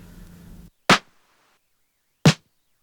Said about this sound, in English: On some of these sounds there is a tail which is really noisy